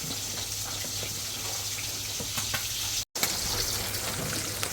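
Fish frying crisp in a pan, a continuous close sizzle with scattered crackles and light stirring scrapes, steady in loudness apart from a brief dropout, no voices.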